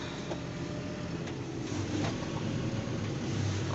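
A farm tractor being driven out of a garage while still cold, giving a steady, close, continuous engine rumble with no talking.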